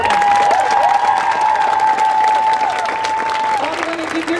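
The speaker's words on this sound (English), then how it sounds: "One more round of applause to these beautiful, beautiful women." A crowd at a Black women's rally in Denver applauds steadily, a dense wash of clapping with scattered cheers and a voice speaking over it.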